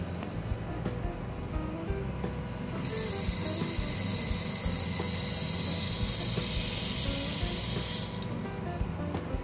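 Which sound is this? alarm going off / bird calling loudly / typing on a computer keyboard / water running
water running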